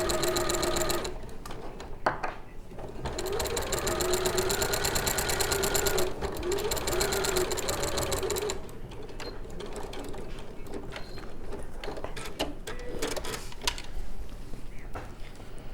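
A sewing machine topstitches fabric with a continuous close whirring and rapid ticking. The run pauses briefly a few times, and no voices are heard.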